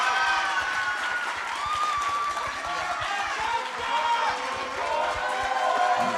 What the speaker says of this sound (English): Can we just give one more round of applause to our presidential and vice presidential candidates?